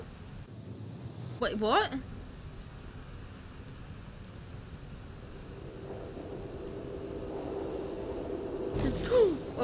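Steady rain with low thunder rumbling in the horror video game Layers of Fear 2, a continuous soft patter under a swelling rumble, while a player briefly speaks and gasps over it.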